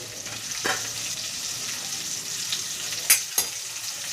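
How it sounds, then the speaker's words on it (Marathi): Chopped onion and green chilli sizzle steadily in hot oil in a home kitchen pan for masala dosa filling, with a few sharp stirring clicks near the end and no talking. "आपण इथं कापलेले कांदा मिरची सर्व टाकून घेऊया"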